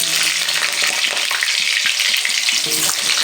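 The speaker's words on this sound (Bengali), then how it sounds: "আগে আমি আলুটাকে ভেজে নেব" Potato pieces fry loudly in hot oil, a dense, close sizzle with crackling spatter that holds steady throughout, with some light stirring.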